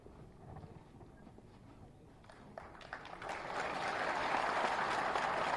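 Applause from an audience welcoming the Chief Minister at a Provincial Rakshak Dal event in Lok Bhavan, Lucknow, starting scattered and swelling into loud, sustained clapping over a low murmur.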